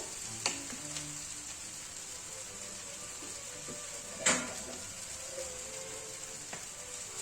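Anchovies frying in a non-stick pan give a continuous bright sizzle and crackle, with a few sharp clinks and pops breaking through, close and steady, no speech.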